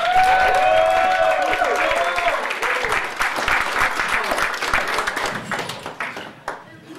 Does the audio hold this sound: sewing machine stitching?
no